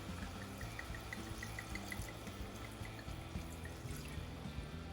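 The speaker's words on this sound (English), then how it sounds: "take a bottle of Sauvignon Blanc or any other dry white wine and pour about a cup in here" Sauvignon Blanc, a dry white wine, poured steadily into a saucepan holding browned bacon and meat for a meat sauce, a continuous liquid splash against low kitchen noise.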